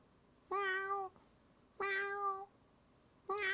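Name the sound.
person imitating cat meows for animation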